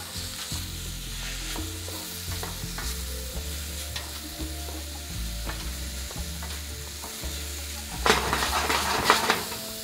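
Chanterelle mushrooms fry in a pan on a 250-year-old stove, a steady sizzle broken by repeated stirring and scraping knocks, rising to a louder, hissier burst near the end.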